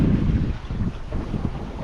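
Steady wind rushes past a sailboat running under full genoa on the open sea toward Panama, a continuous roar with low buffeting against the microphone and no voices.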